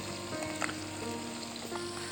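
Fish frying over an open fire beside a stream while fishing: a continuous crackling sizzle with faint pops, steady and close, with no speech.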